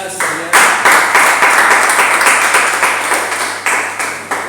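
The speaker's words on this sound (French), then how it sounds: "On acclame le Seigneur." A church congregation claps in a fast, steady rhythm, loud and close, the beats blending into continuous applause with no talking over it.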